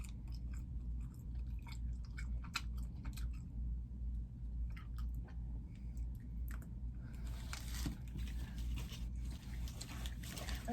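A toddler chewing a Japanese snack up close, with soft, quiet, moist crunching and squishy mouth sounds over a low background hum.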